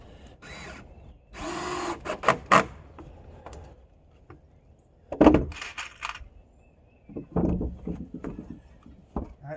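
A power driver sinks screws into pressure-treated lumber on a back deck repair, in several short whirring bursts separated by pauses and light handling clatter.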